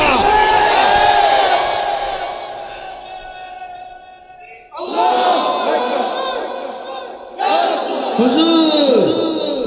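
A large crowd at a religious gathering chants a slogan in loud unison, with surges of massed voices that break off around the middle and then return in two strong bursts.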